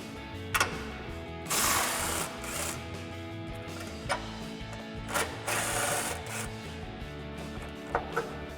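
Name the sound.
impact wrench removing 18mm bolts on RAM 1500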